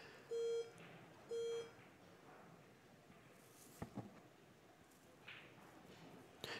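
Two short electronic beeps from a shot clock at a professional pool match at the Diamond Las Vegas Open, steady tones a second apart, followed by faint venue murmur and a few soft knocks.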